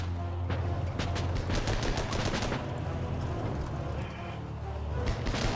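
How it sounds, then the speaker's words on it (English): Machine gun fire in the tank game Armored Battle Crew, with rapid bursts of automatic shots clustered early, over a steady low engine rumble and game noise, with fainter shots near the end. "Do you want me to do the machine gun?"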